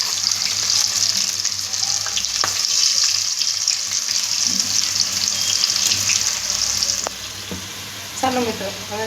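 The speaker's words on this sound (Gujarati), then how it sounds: "પટ્ટીને આપણે કકડી થાય ત્યાં સુધી તળાવવા દેવાની છે." Battered chilli strips for bhajiya deep-fry in hot oil with a loud, dense, continuous sizzle that holds steady, joined near the end by a few light clinks; no talking.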